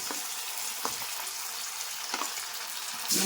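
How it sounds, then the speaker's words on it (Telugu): Marinated chicken pieces fry in hot oil in a pan, giving a close, steady, crackling sizzle with a few faint clicks from stirring and no speech. "ఈ చికెన్ ముక్కల్ని మనం ఈ నూనెలో వేసేసుకుందాం"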